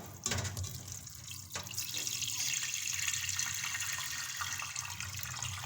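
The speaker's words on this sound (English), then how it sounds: "I have put the cleaned corns inside the pressure cooker, and I am adding little quantity of water also." Water pours into a pressure cooker holding cleaned taro corms, a steady splashing stream at close range that runs continuously for several seconds with no talking.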